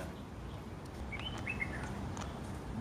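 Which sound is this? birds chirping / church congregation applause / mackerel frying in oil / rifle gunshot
birds chirping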